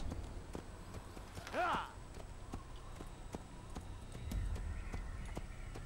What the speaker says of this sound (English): A nice black horse.